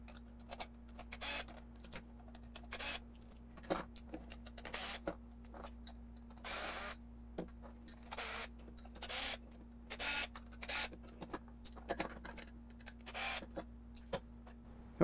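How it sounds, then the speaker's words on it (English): A screwdriver turns Phillips screws out of a Thrustmaster TH8A shifter. The close, soft ratcheting scrapes and ticks come in short repeated bursts over a steady low electrical hum. "we'll continue on with our Phillips screws."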